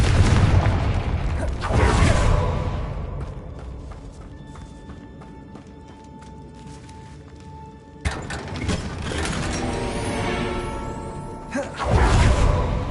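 Confringo fire-blast spell cast in the Hogwarts Legacy video game, with loud booming bursts and whooshes at the start and again partway through, over quieter game ambience between.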